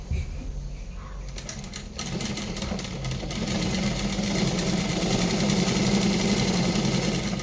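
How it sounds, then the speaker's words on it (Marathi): A sewing machine stitches blouse pieces together, starting with a few clicks and then running in a steady, loud mechanical whir that continues close by to the end. "तर इथे शिलाई मारून घेऊया."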